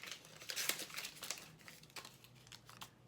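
A paper reference guide from a new Brother XR3774 sewing machine crinkles and rustles up close in steady, uneven handling bursts for a few seconds.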